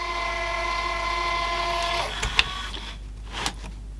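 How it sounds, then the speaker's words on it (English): A National NV850 VCR runs its capstan motor and worn idler gears, a close mechanical whirring with tonal hum that stops halfway, followed by a few sharp clicks and clunks. "Gears aren't sounding perfect. Maybe they're not coming quite in. That just runs off the capstan motor anyway."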